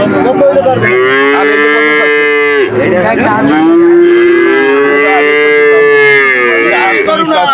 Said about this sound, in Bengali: এই বাছুরটা একটু বেশি কেঁচা কেঁচা লাগতেছে